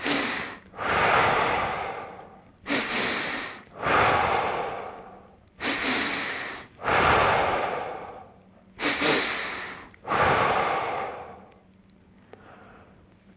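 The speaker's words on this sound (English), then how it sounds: "a couple of different things are happening when we're breathing like this" Someone doing a deliberate loud breathing exercise: seven forceful, rhythmic breaths, each a sharp nasal inhale followed by a long audible exhale, close and loud, then fading near the end, with no talking.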